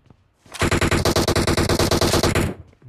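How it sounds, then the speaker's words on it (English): A loud, close burst of automatic gunfire from PUBG Mobile on Erangel runs for about two seconds as an even, rapid string of roughly twenty shots, then it stops abruptly. "What's he shooting at?"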